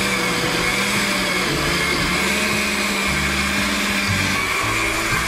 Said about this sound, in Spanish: Aquí tengo chile chipotle adobados, se los voy a licuar junto con los frijoles.